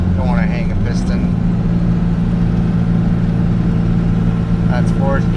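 Diesel truck engine, a 12-valve Cummins, pulls steadily under load in fourth gear while towing, a constant low drone running throughout with brief voices talking over it.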